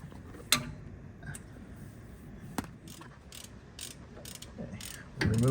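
Ratchet works on bolts holding the blower of a Detroit Diesel 6-71 engine, giving faint mechanical clicks and sharp taps over a quiet workshop background, with a clunk near the end.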